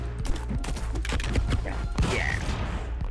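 Cartoonish gunfire in the Stick Fight video game, a dense burst of rapid, crackling shots and impacts layered over game noise, loud and busy throughout.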